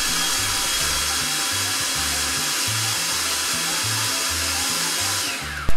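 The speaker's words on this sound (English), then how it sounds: "Now we're going to take our boiled kale and blend it." A blender whirs steadily while blending boiled kale with its cooking water for rainbow tortillas, a loud continuous motor hum that cuts off abruptly at the end, with background music underneath.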